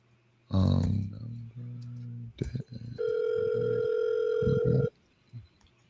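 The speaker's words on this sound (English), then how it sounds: "It's just going to like a disconnected sound." Telephone line giving a steady electronic disconnected tone during a live real-estate seller call, a loud sustained beep following some brief clicks and voice sounds, with a short trailing noise after it ends.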